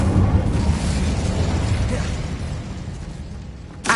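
A magical Incendio fire spell goes off as a loud, rumbling burst of fiery explosion that fills the moment, fading slightly before a sharp second crack near the end.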